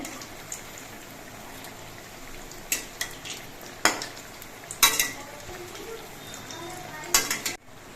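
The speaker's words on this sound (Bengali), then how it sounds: "পকোড়াগুলোর এক পিট কিছুক্ষণ ভাজা হওয়ার পর আমি উল্টে দিচ্ছি" Taro leaf pakoras frying in oil give a soft, low sizzle beneath several sharp clinks and scrapes of a utensil against the pan as they are turned.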